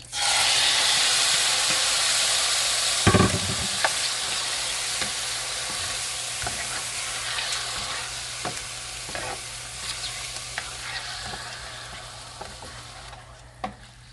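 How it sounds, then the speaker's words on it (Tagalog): Chicken pieces for teriyaki fry in hot sesame oil with a loud, dense sizzle. A sharp burst marks the pieces hitting the pan, then the hiss eases slightly, broken by occasional stirring clicks. "Okay, then let's add our chicken."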